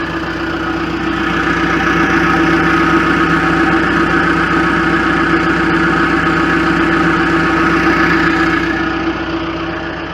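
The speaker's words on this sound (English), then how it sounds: "I want to let you guys hear the exhaust." A John Deere 310SG backhoe loader's engine idles at a constant pace, its exhaust drone steady, rumbling, even and continuous throughout with no change in revs.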